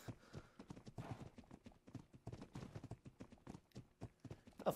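Horse hooves clip-clop in a steady, busy rhythm across the ground in the ARK survival game, fairly close and moderately loud, with no talk over them.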